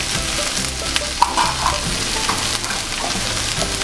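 Sliced onions with curry leaves sauté in hot oil for a coconut-milk chicken curry, a steady loud sizzle with occasional stirring scrapes, close up and without speech.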